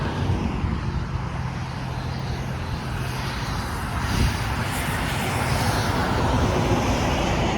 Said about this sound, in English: I find that truck is making a bad noise